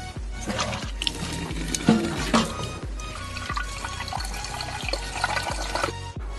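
Tap water runs steadily into a kettle at home, a continuous close splashing flow with small surges, no talking over it.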